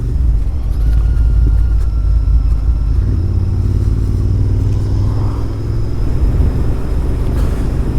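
A Royal Enfield Interceptor 650 motorcycle cruises steadily along a country road near Holmbridge and Holme Moss, its engine a close, continuous low rumble mixed with wind noise, with a slight change in pitch midway.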